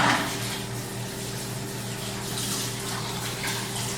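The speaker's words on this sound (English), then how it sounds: "I just need to rinse out these bowls that we ate out of and a few utensils" Water runs steadily from a kitchen tap while bowls and utensils are rinsed beneath it, a continuous near splashing flow with a low hum underneath and no talk.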